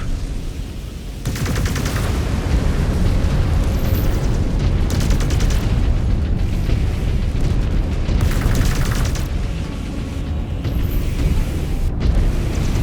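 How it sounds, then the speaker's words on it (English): A mech blows apart in MechWarrior 5: Clans, a loud sustained roar of explosions and heavy gunfire-like bursts rumbling continuously for several seconds, with no voices over it. "Mech destroyed!"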